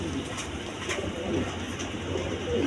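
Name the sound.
pigeons cooing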